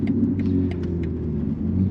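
A BMW M3 driving at night with worn-out struts, heard from inside as a steady low engine and road rumble with a few light clicks and knocks over it, with no talk.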